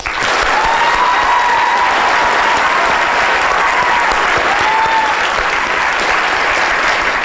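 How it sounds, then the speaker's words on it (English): A live audience at a public brain-science talk breaks into loud, sustained applause that fills the whole stretch at a steady, dense level with no pauses. "could we give a warm round of applause to Talia and Professor Ian Lyburn?"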